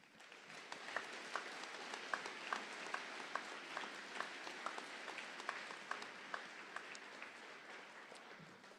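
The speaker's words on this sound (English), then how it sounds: "That deserves applause." Graduation audience applauding in a large hall, a dense sustained wash of many hands clapping at moderate distance, steady throughout with scattered sharper claps standing out.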